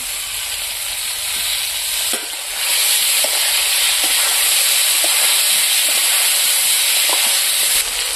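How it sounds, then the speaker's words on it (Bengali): Eggplant slices fry in oil in a pan, a constant bright sizzle that swells louder after a couple of seconds, with faint clicks of stirring or turning. "এখন আমি আর একটু তেল দিয়ে দেবো বেগুন ভাজাগুলোকে"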